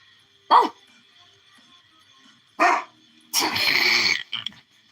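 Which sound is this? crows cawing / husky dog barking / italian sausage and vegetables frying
husky dog barking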